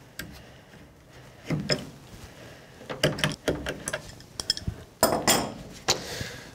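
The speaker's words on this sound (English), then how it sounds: "tighten it a few turns using a crescent wrench" Metal clinks and clanks from a crescent wrench tightening a thread-taped drain adapter on a Santa Fe Oasis105 dehumidifier, several separate knocks and ratchety taps at close range with quiet gaps between.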